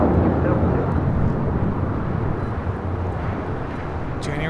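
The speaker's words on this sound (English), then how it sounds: "we got the A380 Emirates. Short funnel for 24 left" An Emirates Airbus A380 on short final to runway 24 Left at LAX makes a broad, continuous jet roar, loud and steady, easing slightly toward the end, with faint voices beneath.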